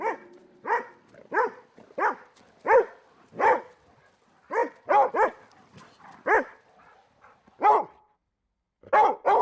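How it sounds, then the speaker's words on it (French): A series of a dog's barks, about a dozen sharp, loud, close woofs in an uneven rhythm with short gaps, and no talking. "La question de savoir si les chiens ont développé l'aboiement pour interagir avec nous divise les scientifiques."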